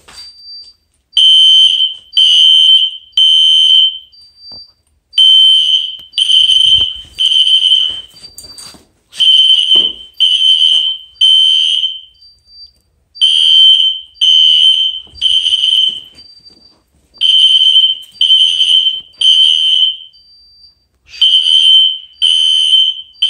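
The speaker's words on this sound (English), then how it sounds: "Anyway, let's pull fire alarm." A fire alarm system under test after a pull station is pulled: a loud, high electronic tone sounds in repeated groups of three short blasts with brief pauses between groups, steady through the whole stretch, with no talking.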